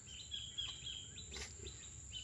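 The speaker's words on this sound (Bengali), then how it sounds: "শুধু পাখির কলরাপটা শোন" Small birds chirp and twitter in the Sundarbans forest at dawn, with thin, faint repeated calls drifting over a quiet background and no voices.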